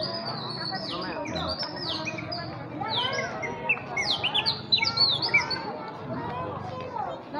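Many birds chirp and tweet busily outside the Minor Basilica of Our Lady of the Rosary of Manaog, a dense overlapping chorus of sharp calls over a low murmur of crowd and talk.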